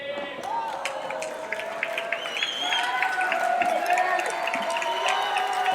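Spectators at a professional men's padel semi-final in Bali cheer and applaud after a crucial point, a sustained swell of clapping and voices that grows louder midway, with a commentator talking over it.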